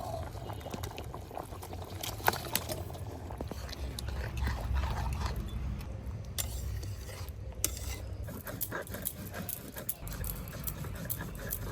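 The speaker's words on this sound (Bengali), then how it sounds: "এবার মাছ কটা দিয়ে দেবো। গামলা ধরে ঢেলে দিই।" Raw fish pieces tipped from a bowl into a simmering fish curry with boiled potatoes, giving a steady bubbling, sizzling wash with scattered splashes and clinks close by, continuous throughout.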